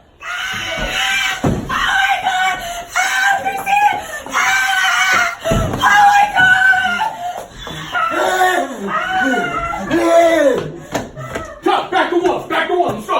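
A woman screams repeatedly on a horror film set, in loud, sustained bursts across the whole stretch, with a few sharp knocks and other voices mixed in.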